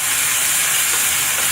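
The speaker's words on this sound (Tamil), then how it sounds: "நம்ம இப்போ சின்ன வெங்காயத்தை வதக்கிட்டே இருக்கோம், இன்னும் கொஞ்சம் வதங்கணும்" Shallots sautéing in hot oil for a Tamil mutton kulambu, a steady loud broadband sizzle and hiss that holds without a break, with no talk.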